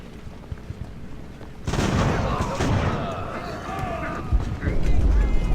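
Cannon fire from sailing warships in the naval battle game Ultimate Admiral: Age of Sail erupts as a dense, rumbling barrage of booms that swells midway and keeps rolling, while someone talks over it.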